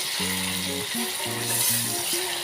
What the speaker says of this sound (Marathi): एक चमचा मोठा हिरवं वाटण घालते मिक्स करून घेऊया